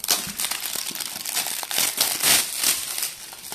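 Close, continuous crinkling of thin plastic, with crackly rustles rising and falling as the bag is handled and crushed.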